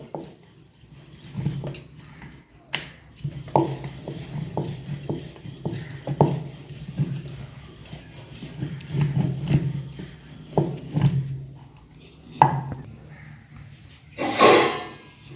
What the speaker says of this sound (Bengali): এবার অল্প পরিমাণে আটা দিয়ে লেচিটাকে বেলে নেব।